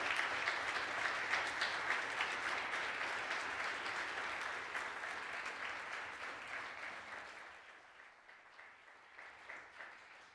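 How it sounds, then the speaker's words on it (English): An audience claps for a retiring professor at the end of a farewell lecture on bioprocessing, steady dense applause that slowly fades and thins toward the end. "Professor Jungbauer needs a very big applause for this great lecture"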